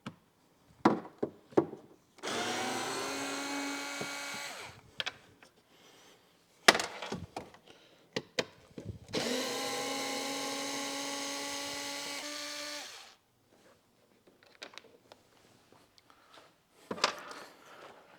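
Screws being driven out of a motorcycle trunk lid with a power drill during a luggage rack install, heard as two sustained whirring bursts of several seconds each, with scattered clicks and handling knocks between them, close and fairly loud.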